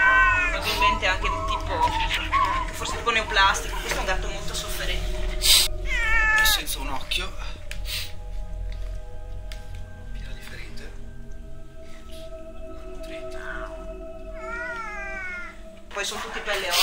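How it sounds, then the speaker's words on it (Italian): A suffering, malnourished cat in a cattery meows and caterwauls repeatedly in loud, strained cries, with other cats calling and a person talking over them. "questo è un gatto molto sofferente"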